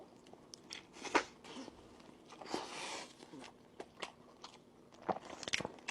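Someone bites and chews barbecue stuffed with egg, bacon and beef, giving several close crunchy bites and soft mastication noises with brief pauses between them.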